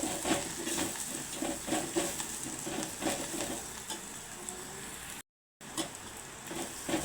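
Roasted fenugreek and cumin powder frying in a pan for Andhra egg pulusu, a steady close sizzle with soft stirring scrapes, continuous and fairly loud, broken by one brief gap of silence near the end.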